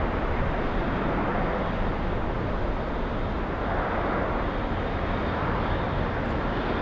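A jet airplane at Boston Logan airport produces a steady, broad roar that holds at an even, fairly loud level throughout, with no talk heard.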